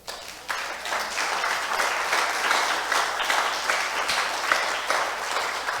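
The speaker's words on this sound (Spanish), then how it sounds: "Aplauda al Señor, por favor." A church congregation claps steadily for several seconds, a dense, sustained wash of applause filling the room with no speech over it.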